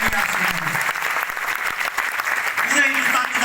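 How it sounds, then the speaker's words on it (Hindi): Dense, loud applause from a large audience at a public talk fills the whole stretch, steady throughout with a few voices calling out faintly beneath it. "ताली मर्दों वाली बजाइए सर"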